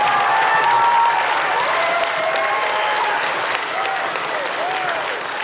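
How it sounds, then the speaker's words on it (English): A school audience at a Veterans Day assembly applauds the Kroc Center Band with steady, dense clapping throughout, while a few voices and faint tonal sounds carry above it. "A nice round of applause for their outstanding."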